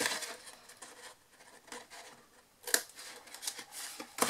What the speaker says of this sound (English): this last little tiny bit here we're going to cut away